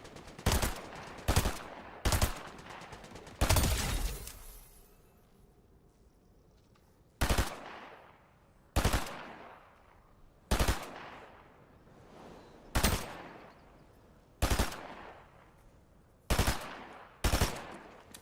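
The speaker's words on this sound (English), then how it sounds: "Never tried using this gun." Gunfire from a weapon in Fortnite, with a quick burst of four shots, then a lull and a string of single, evenly spaced loud shots whose reports ring out briefly, with no voices.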